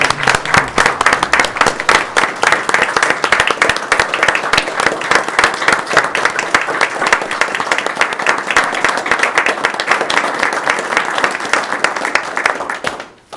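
Applause fills a River Falls city council meeting, a loud, steady clapping from many hands that carries on for about thirteen seconds before tapering off at the very end.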